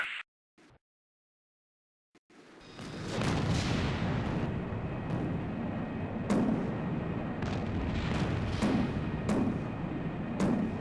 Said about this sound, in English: Oh, somebody's still firing.